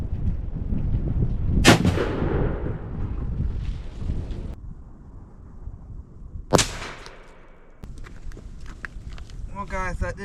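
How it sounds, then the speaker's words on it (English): Two loud, sharp shotgun blasts from a Remington V3 Sport 12 gauge fired at a turkey pattern target outdoors, spaced about five seconds apart, each with a rolling echo, amid wind noise and shuffling. "today I'm shooting a Remington V3 Sport, or Field Sport"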